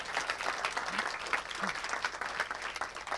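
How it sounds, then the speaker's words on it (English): Applause from an audience after a Pinterest talk on social commerce at a launch conference, a brief burst of dense, lively clapping heard close up. "Big round of applause, first of all."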